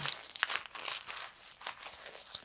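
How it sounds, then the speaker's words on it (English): Paper crinkling and crunching up close as a sheet is crumpled into a ball, in quick irregular bursts of rustling. "ball up the paper"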